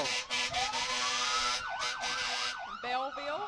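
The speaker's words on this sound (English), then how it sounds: "there's a little competition every year in this to see which department has the loudest siren" Several fire truck sirens blare close by during a loudest-siren competition, a long rising wail giving way to rapid yelping sweeps, layered with harsh horn blasts.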